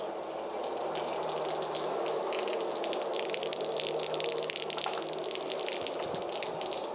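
Salt water trickling and dripping out of holes drilled in a boat hull during a refit, a steady close splatter with fizzy, frying-like crackle and no talking.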